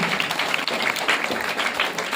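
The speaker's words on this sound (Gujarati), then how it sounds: "તો આપણે એમને જોરદાર તાળીઓથી વધાવીશું" Audience applause at a school entrance ceremony in Libali, a steady, dense wash of clapping that holds at an even level for about two seconds with no clear breaks.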